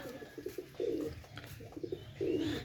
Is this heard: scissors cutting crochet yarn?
no